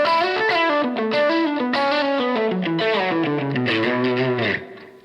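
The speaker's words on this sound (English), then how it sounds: "I'm going to turn the distortion down slightly and maybe the drive up this side" Heavily distorted electric guitar through two stacked drive pedals, a Strymon Iridium and a Boss, playing a descending run of sustained chords, thick and saturated, loud throughout before cutting off and fading at the end.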